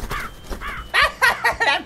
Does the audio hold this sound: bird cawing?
yes